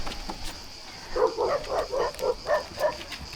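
Dogs at a seaside dog beach in Lignano give a quick run of about eight barks in an even rhythm at moderate distance, with faint ambient noise between them.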